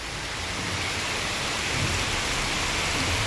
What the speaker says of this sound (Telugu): నాన్ స్టాప్ వర్షం పడుతుంది చూడండి సౌండ్ వస్తుంది